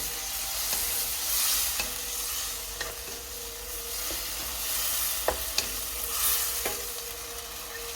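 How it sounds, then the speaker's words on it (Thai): Curry simmers in a pot after unsweetened milk is added in place of coconut milk, and a spoon stirs it with steady, gentle clinks and scrapes over a soft, continuous bubbling sizzle. "ใส่ นมจืดนะคะร้อยเปอร์เซ็นต์นะคะ ใส่ลงไปแทนการใส่กะทินะคะ แล้วก็คน"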